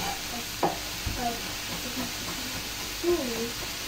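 Garlic frying in a hot pan in a home kitchen, a steady sizzle with occasional scrapes of stirring, while people talk over it.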